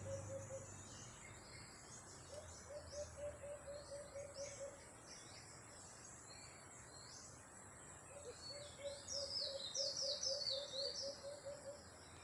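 Wild birds call through a forest in a steady series of thin, repeated chirps, with higher twittering phrases later on. Insects hum in the background, and the calls sound moderately distant and fairly faint.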